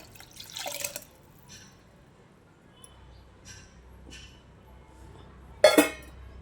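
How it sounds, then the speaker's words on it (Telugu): Boiled lentil water is poured into a cooking pot, heard as scattered drips and small splashes with a sharp clink near the end, fairly quiet and close. "ఈ పప్పు ఉడకబెట్టిన వాటర్, పప్పు కట్ అంటారు కదా, ఇది ఇందులో వేసేస్తున్నాను."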